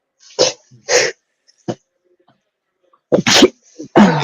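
A few sharp, loud sneezes in quick succession, close up, separated by brief silences.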